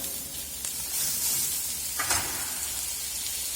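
Chopped green beans and capsicum dropped into a hot pan, a steady close sizzle and fry with a sharper burst of crackling as more vegetables go in.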